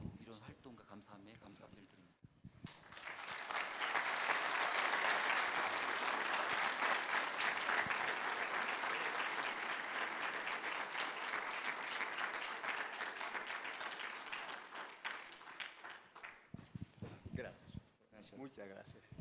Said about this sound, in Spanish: Así una vez más aplaudimos por Pastor Marcelo